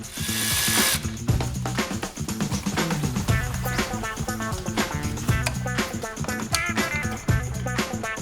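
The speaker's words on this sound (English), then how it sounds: "And then the bolts could be tightened up." Drilling power tool tightening bolts on the lower control arms of a Toyota Sera with a big turbo, steady loud whirring with repeated bursts and ratcheting pulses, close up, with no talk.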